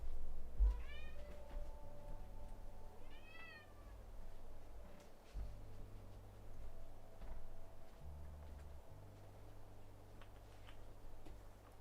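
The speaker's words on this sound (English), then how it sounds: "let me let the cat out." A house cat meows to be let outdoors, giving two short rising calls early on, then falls quiet against a faint indoor room hum and soft ticking.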